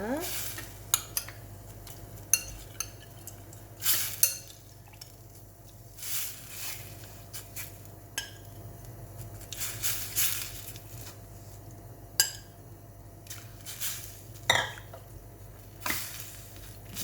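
Tofu goes into a pot of sundubu stew, bringing soft squishy plops, metal utensil clinks and scraping against the pot over a low steady simmer, close and intermittent.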